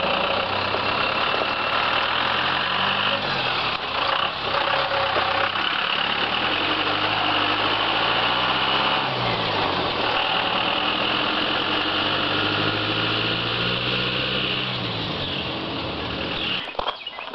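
A 1990 full-size Chevrolet K5 Blazer engine idles steadily up close, with a low, even, rumbling drone and a faint rhythmic knock that runs the whole way through without any talk.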